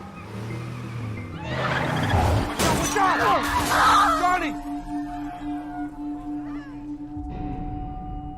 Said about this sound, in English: When the car accident happens.